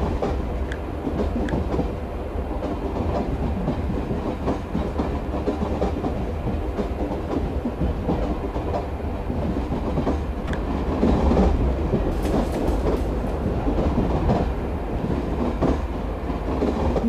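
An Indian local train running in a train simulator video game, a loud, continuous rumble with rhythmic wheel clatter and a brief squeal of wheels partway through.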